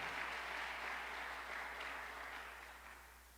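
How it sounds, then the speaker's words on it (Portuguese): Congregation applause at a Portuguese-language church service, a steady wash of many hands clapping that fades slowly over a few seconds, fairly distant and without talk over it. "Dê um aplauso a Jesus se você crê"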